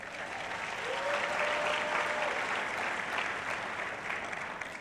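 An audience applauds for a manager at a speaking event, a steady dense roar of clapping that swells after the first second and holds evenly throughout, without talk.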